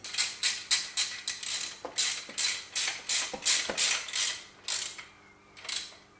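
Lock washer and nut being tightened onto a motorized bicycle with a kit part: a steady run of quick, rhythmic metallic ratcheting clicks in close bursts, pausing near the end before one last burst, with no talking.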